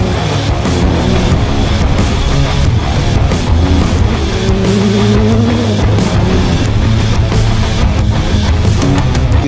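A rally car is driven hard through a corner at a Goa rally school, its engine roaring continuously and rising and falling in pitch as it brakes and turns, loud and close throughout with no talk.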